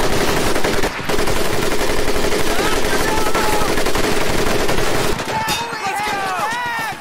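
A mounted machine gun turret fires in rapid continuous bursts in the World War II shooter Medal of Honor: Pacific Assault, loud and close with dense battle noise and voices heard over the gunfire.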